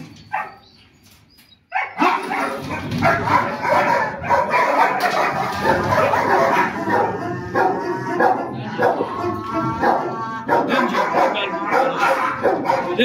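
A dog barks and yelps repeatedly, loud and close, in an agitated, rapid burst, mixed with commotion as people handle it and fit a muzzle, after a quiet opening.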